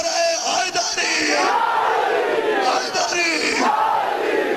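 A large crowd at an Eid Milad-e-Nabi religious gathering roars the slogan Nara-e-Haidari in two loud, massed waves of shouting voices.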